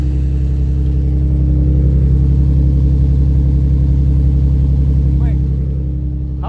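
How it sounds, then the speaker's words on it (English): A supercharged 2007 Toyota FJ Cruiser on 40-inch tires revs close by with a loud, sustained throaty engine roar that eases slightly near the end. "Of course, you want to warm it up before you rev it."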